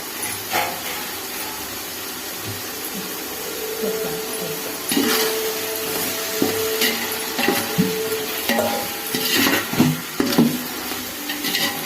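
Chopped mint and coriander leaves sauté in hot oil for a prawn biryani, a steady hiss and sizzle with scattered clinks and scrapes of a utensil against the pan, close by and without talk.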